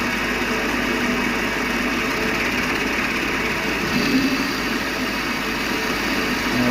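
A Vevor 600 mini lathe turns at about 1,000 RPM with a steady, even motor whine and a mechanical hum that holds constant throughout, close by and with no talking.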